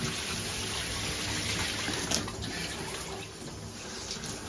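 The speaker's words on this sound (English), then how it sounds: "I'm just going to generally rinse it down real quick in preparation to scrub" Shower water sprays steadily while a bike is rinsed down in a bathroom before scrubbing, a dense continuous hiss with a few faint splashes and clatters, no talk.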